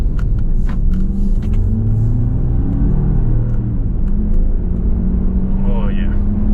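A 2006 Jeep Commander with a new Hemi V8 engine accelerating hard, its deep engine rumble climbing steadily in pitch and staying loud and close for several seconds.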